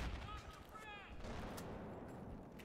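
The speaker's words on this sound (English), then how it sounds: "No idea where those bullets just came from." Gunfire in the Battlefield video game, a few sharp distant shots and bursts over constant battlefield rumble and background noise, with a faint voice briefly mixed in.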